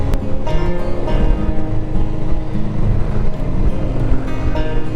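A motorcycle rides along a small country road off the A76 toward New Cumnock, its engine and wind rush forming a loud, continuous roar that stays close and even throughout. No voices.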